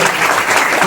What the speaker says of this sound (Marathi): हे सगळी सर्वांनी जोरदार टाळ्या वाजवायच्या